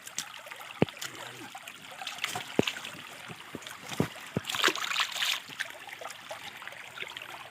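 A forest stream flows as freshly dug wild food is washed in it, a soft continuous trickle and babble with sharp splashes, knocks and a brief louder burst of water mid-way.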